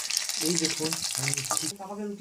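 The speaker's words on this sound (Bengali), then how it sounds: "এভাবে আমি ভালো করে লাল লাল করে আমাকে ভেজে নিতে হবে এই চিকেনগুলোকে" Chicken pieces for chili chicken fry in hot oil in a wok, a loud, close crackling sizzle that runs under a voice speaking throughout.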